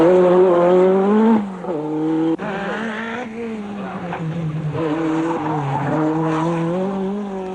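A Renault 5 Turbo rally car driven hard, its engine revving up and down through gear changes with brief tire squeal, close and loud with no voices.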